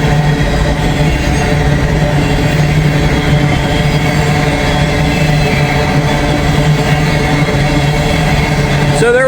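An empty grain train rolls past in a loud, continuous rumble with steady rail and wheel noise and a low engine drone that holds for the whole span.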